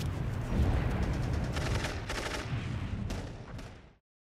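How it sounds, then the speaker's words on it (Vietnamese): Sustained wartime gunfire from American light machine guns and grenade launchers, with dense crackling bursts and heavier sharp reports overlapping loudly before cutting off abruptly. "Còn mấy tiếng súng Trung Liên Mỹ với lại mấy khẩu ga răng nổ là sao?"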